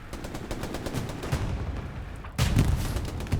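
Distant machine gun fire rattles in bursts through a battlefield in the World War II game Hell Let Loose, set on the Stalingrad map, with a sharper, louder volley cutting in near the end.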